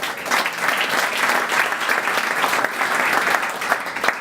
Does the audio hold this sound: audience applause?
yes